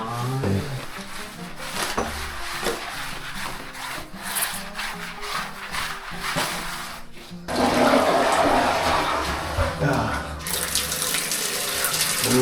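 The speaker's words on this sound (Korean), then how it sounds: "싱크대 물도 잘 나오고" A kitchen sink faucet runs in a villa during a water-leak repair job. Water pours loudly and continuously at close range, with its splash changing and growing fuller partway through, and no talking is heard.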